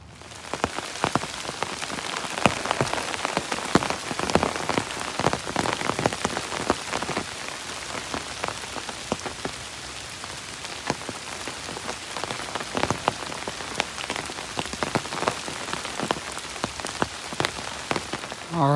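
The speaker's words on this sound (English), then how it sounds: "Yep, rain everywhere." Heavy rain pours onto a hiking trail on the New England Trail, a dense constant hiss studded with sharp drop impacts and taps, steady throughout with no voices.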